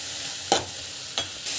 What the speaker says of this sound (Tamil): பெருங்காயம் ஆட் பண்ணிட்டு பிறகு நல்லா வந்து வதக்கிட்டுக்கோங்க